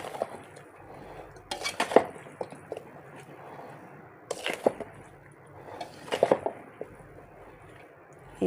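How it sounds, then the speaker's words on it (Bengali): Mango pieces being tossed with spices in a bowl for oil mango pickle produce soft, wet squelching and rustling, with repeated bursts of clinking and knocking against the bowl, close and fairly quiet. "এইভাবে পুরো নেড়ে নেড়ে আমটাকে ভালো করে মাখিয়ে নিতে হবে মশলাগুলো"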